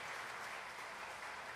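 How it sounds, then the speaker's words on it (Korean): Faint applause from a church congregation, a brief steady patter of clapping heard from a distance. "박수하겠습니다"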